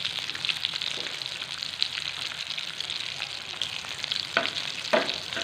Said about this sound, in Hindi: इस तरह से हम बाकी भी फ्राई कर लेंगे